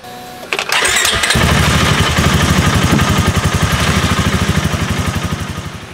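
A vehicle engine, started with a portable jump starter, cranks briefly and then catches into a loud, steady running idle with a fast regular pulse close by, with no talk.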